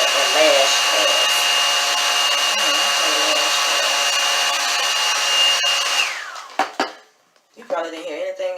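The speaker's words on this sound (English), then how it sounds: "I'm talking all through the hair dryer." A hair dryer blows loudly and steadily for several seconds, then cuts off abruptly, followed by a few clattering knocks.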